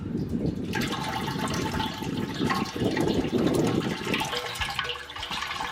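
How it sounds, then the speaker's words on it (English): Pure water flowing through equipment during a Kemphos 2001 pink cleaning demo, a steady loud rushing gush that continues without a break. "that's just pure water coming through."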